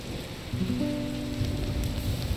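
Rain falls steadily in the video game The Star Named EOS, a dense wash of drops pattering on surfaces, joined partway through by a low tonal hum. No one speaks.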